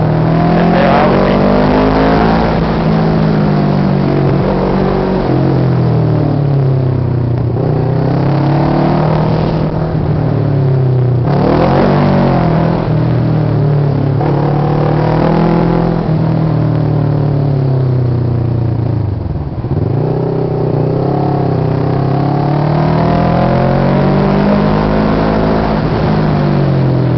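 A car engine drones steadily while driving slowly around a corner on a road, a loud continuous low rumble with mild rises and dips in pitch throughout, close and dominant with no talk.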